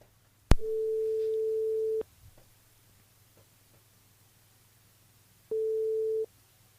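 Two steady telephone ring tones on a radio call-in line, the first lasting about a second and a half after a sharp click, the second shorter, separated by near silence.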